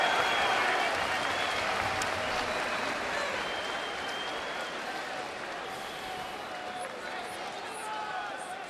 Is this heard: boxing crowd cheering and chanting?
yes